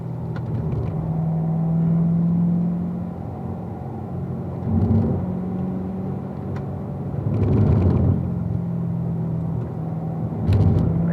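A car engine rumbles and rises in waves as it accelerates through a series of S-curves, with swelling pulls around the turns and a steady low drone between, heard from inside at moderate volume.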